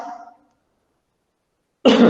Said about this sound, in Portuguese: eu falo muito, me dá até pigarro.